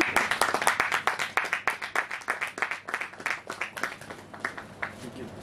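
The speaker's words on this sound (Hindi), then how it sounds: "जोरदार तालियों के साथ।" Loud applause from a crowd at a devotional gathering ahead of the Ram Lalla consecration festival, with dense rhythmic clapping that starts strong and slowly thins out over several seconds.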